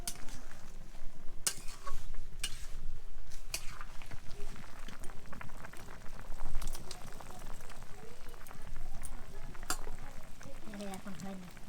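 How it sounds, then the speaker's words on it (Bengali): Meat with freshly added boiled water cooking in a pot at a home kitchen, giving a steady bubbling, sizzling hiss throughout with occasional clinks and faint background voices. "এখন মাংস চাপিয়েছি।"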